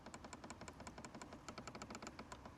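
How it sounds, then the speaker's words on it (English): A quick run of small, crisp plastic clicks close by as the temperature and fan-speed climate control knobs of an electric Nissan March are turned, arriving in rapid, slightly uneven bursts. "nice clicking sounds for the climate unit, temperature and fan speed"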